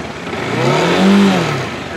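An engine rises into a loud, hard rev, peaks and falls back within two seconds, close up. The bike is one of a Royal Enfield Interceptor 650, Bajaj Dominar, Himalayan or Continental GT.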